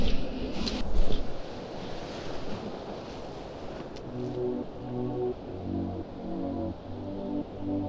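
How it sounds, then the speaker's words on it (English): Ocean waves surging on a surf-fishing beach, a broad rushing wash with wind buffeting the microphone, joined by a steady droning tone in the second half. "These waves are forming really nicely."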